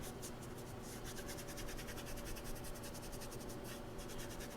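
A hand rubs kinesiology tape onto a knee, making a steady, soft, close scratchy friction sound with quick repeated strokes.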